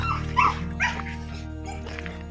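A dog gives a few short barks and yips, moderately close, over a steady low hum that runs throughout.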